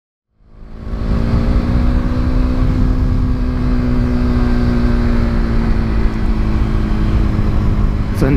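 KTM Duke 390 motorcycle ridden off road on gravel at Kentish Park, Sheffield, a loud close engine drone that rises quickly and holds a steady hum throughout, with wind rush over it and no talking.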